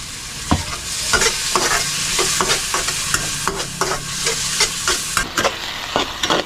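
Corned beef frying in hot oil, stirred with a utensil that scrapes the pan in repeated sharp strokes over a steady, fairly loud sizzle.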